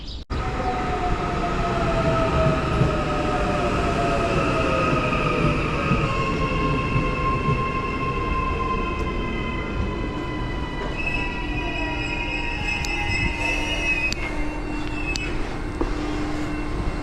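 An Eastern Line train pulls into a platform in New Zealand, a steady loud rumble with long squealing wheel tones that shift in pitch as it slows, and no voices over it.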